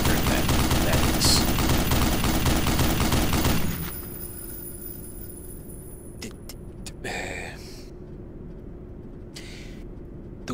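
A tripod-mounted gun in the game Black Mesa fires a loud, continuous rapid burst for several seconds, then stops, leaving quiet background with a few faint clicks.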